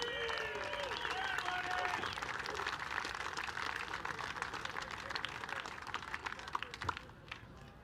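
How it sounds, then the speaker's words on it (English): Crowd applauding a winning driver at the San Diego Bayfair boat races, a broad, fairly distant spread of clapping heard outdoors, continuous for several seconds with a few louder claps and faint voices mixed in. "Give them a big round of applause"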